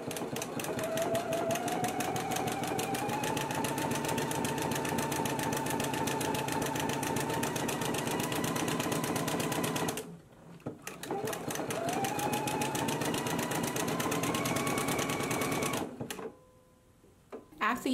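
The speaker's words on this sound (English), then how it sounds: "we're going to go to the machine and we're going to stitch using a narrow zigzag stitch at a 1/4 inch seam allowance" A sewing machine runs a narrow zigzag stitch along a quarter-inch seam in rayon challis, a fast, even mechanical chatter held for long runs with two brief pauses, fairly quiet.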